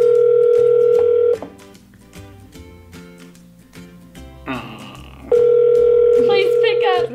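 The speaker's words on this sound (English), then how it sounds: "They're not picking up the phone." An outgoing telephone call rings through the handset, with steady tone bursts broken by a long pause in which faint talk and a brief burst of noise come through.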